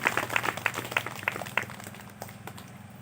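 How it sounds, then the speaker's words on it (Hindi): A church congregation at a Hindi sermon claps hands in a quick, regular rhythm, with about a dozen crisp claps in a row before it thins out and fades over a low room hum. "हाँ ताली बजाओ ना पहले एक बार"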